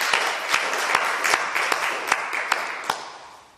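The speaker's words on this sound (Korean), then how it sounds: "말씀 주신 주님 앞에 우리 감사의 박수 드리겠습니다" A church congregation applauds together, dense clapping filling the room with a few sharper individual claps standing out, then fading toward the end.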